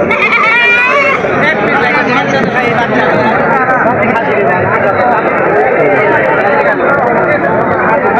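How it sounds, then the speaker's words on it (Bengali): Goats bleat repeatedly amid a busy crowd hubbub at the Tebaria livestock market in Natore, the cries rising over constant chatter and nearby talk. "এখানে অনেক প্রান্তিক খামারিরাও বেচতে আসে ছাগল।"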